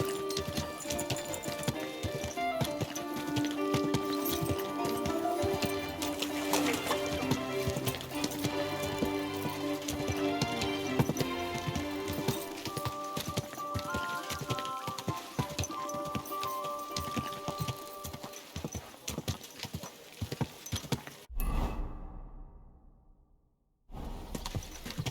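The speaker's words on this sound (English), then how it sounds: "Easy, good horse." Horse hooves clip-clopping in the video game Kingdom Come Deliverance 2, a steady rhythmic trot beneath music and ambient sound, cutting out abruptly near the end.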